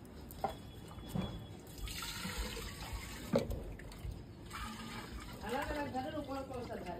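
Water is poured and splashes in bursts during a home flower-pot ritual, loud up close, while people talk over it.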